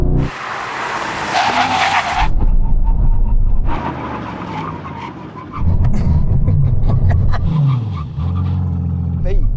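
Tires screech in a long, loud skid as an Aston Martin V12 car brakes hard during a drag race event, with engine roar and a few more squeals following; voices are heard faintly underneath.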